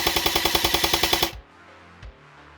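A Specna Arms X Series Flex airsoft gun fires a full-auto burst, about a dozen sharp rapid clacks in a tight even rhythm, close and loud, then stops abruptly, followed by a single faint click.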